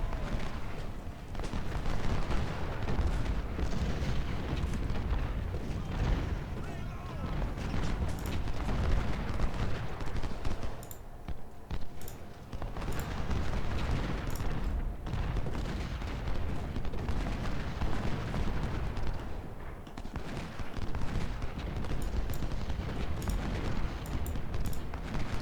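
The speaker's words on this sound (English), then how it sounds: "cannons, where do you think you're going? Why don't you just fire at something that's in range?" Cannon and artillery fire in the Civil War strategy game Ultimate General: Civil War, with booming shots and crackling musketry layered into a continuous, loud battle din that lasts throughout.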